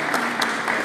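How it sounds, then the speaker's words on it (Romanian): Theatre audience applauding at the opening of a theatre festival in Braila, a steady dense clapping that fills the whole short moment without voices. "vă rog să-i aplaudăm"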